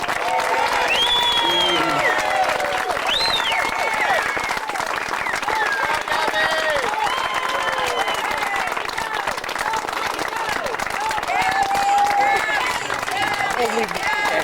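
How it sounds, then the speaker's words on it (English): A big crowd at a political campaign event applauds steadily for Gabriela Saucedo Mercer, with dense, continuous clapping and scattered cheers and whistles throughout. "How about a big round of applause for Gabriela?"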